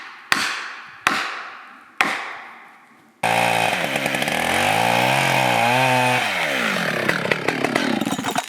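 Three sharp axe-like chops on wood ring out in the woods at an off-grid log cabin build, then a chainsaw starts up loud and close, revving and cutting steadily through timber.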